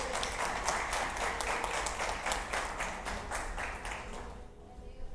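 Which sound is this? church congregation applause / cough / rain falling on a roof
church congregation applause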